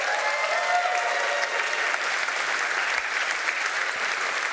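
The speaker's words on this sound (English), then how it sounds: "Can we get another round of applause for the Wings Award, please?" Steady, dense audience applause fills a hall at the A MAZE. Berlin award show, loud and continuous for several seconds with no one speaking.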